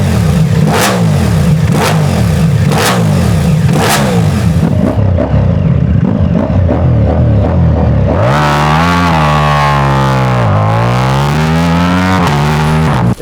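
A Ducati Diavel V4 motorcycle fitted with a new exhaust system revs hard in several quick blips, pauses, then climbs in a long loud sweep up and back down, close by and with no voices.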